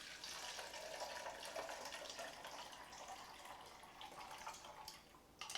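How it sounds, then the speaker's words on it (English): Juice from a Green Star masticating juicer poured steadily into a second pitcher, a continuous close splashing trickle that tapers slightly near the end. "Let's pour this into another pitcher here"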